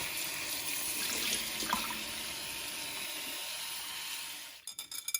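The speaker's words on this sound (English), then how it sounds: "we're going to add a little more cold water to the bowl and just give it one more rinse" Salt fish being rinsed in a bowl of cold water for ackee and saltfish, with a soft continuous wash of running and sloshing water that fades, then a few quick splashy knocks at the end.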